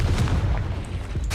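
In the video game Hogwarts Legacy, the Confringo blast spell explodes with a deep booming thud, then low rumbling blasts and a sharp crack near the end, loud and close.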